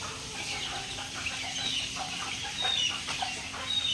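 Small chicks peep at a backyard poultry coop, with short high chirps scattered through steady farmyard noise and no talk.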